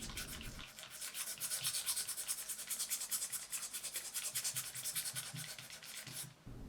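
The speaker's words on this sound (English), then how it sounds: "sand everything down nice and smooth" Steady rhythmic back-and-forth sanding of a wooden kumiko asanoha eyeglasses case, close and continuous scratchy strokes for several seconds before stopping briefly near the end.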